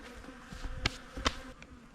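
Bees hover around a small bee tray in a forest vegetable garden, a faint, steady buzzing close by, with a couple of brief clicks or taps.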